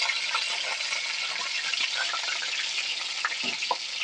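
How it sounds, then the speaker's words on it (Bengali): Ten to twelve cloves of chopped garlic frying in hot white oil: a bright, continuous crackling sizzle, close and fairly loud, with small pops scattered throughout and no voices. "তেলটাকে গরম করে নিয়েছি আর দেখো বেশ দশ বারো মতো রসুন কুচিয়ে নিয়েছি রসুনটা দিয়ে দিলাম"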